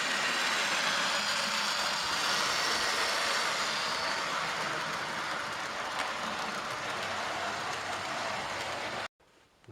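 A Dapole N2 N gauge model locomotive with six-wheel pickup runs over dirty rails on a loft model railway, making a continuous close whirring rumble that cuts off abruptly near the end.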